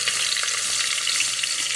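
Pork cracklings (torresmo) frying in a pot of hot oil, a steady dense sizzle that fills the short moment evenly and loudly, with no talking over it.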